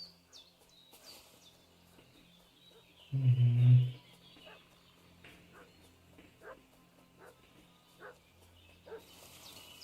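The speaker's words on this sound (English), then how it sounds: "What's that dog making such a fuss about?" A dog barks in a medieval village in Kingdom Come Deliverance 2, a single loud burst of barking at mid distance, followed by faint intermittent yips and bird chirps over quiet ambience.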